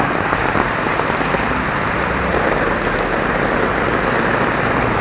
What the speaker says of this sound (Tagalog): hindi ko alam kung makakabiyahe kami ngayon pagka gantong kalakas ang ulan